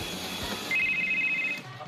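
A telephone rings once, a brief electronic warble lasting under a second, moderately loud against a quiet room.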